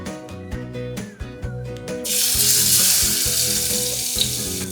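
Garlic dropped into hot oil starts frying with a sudden loud, steady sizzle, replacing the quieter background music and continuing strong through the rest of the clip while a masala for vada fish curry is made.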